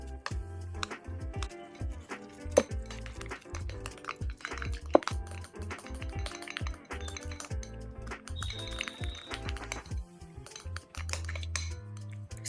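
Jelly slime being stirred with fake snow in a container, giving repeated clinks and scrapes of a utensil against the bowl in an uneven rhythm, close and fairly quiet, with no talk.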